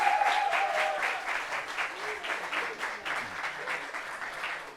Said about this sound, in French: Applaudissements sérieux.